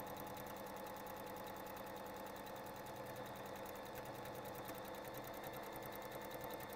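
A Bernette mechanical sewing machine stitches a buttonhole with a fast, steady mechanical whir and rapid needle clatter, heard close and continuous with no pauses.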